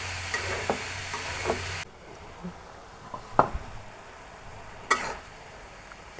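Vegetables stir-fried in a home kitchen pan for a snack recipe: a steady sizzle at first, then quieter frying with a few sharp spatula scrapes and clinks at irregular intervals, close and moderately loud.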